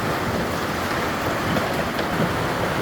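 Heavy rain pours onto a boat moored in a marina, a loud, unbroken roar of drumming water close by, with no voices.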